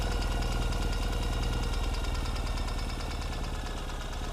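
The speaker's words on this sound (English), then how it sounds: "This is a cold engine start." A Ural motorcycle with a Gen II fuel-injected engine idles after a cold start, a steady, close, loud rhythmic chugging with a fast even pulse that stays constant, no talk.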